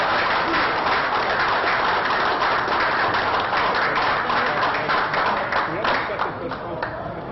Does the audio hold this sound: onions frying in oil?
no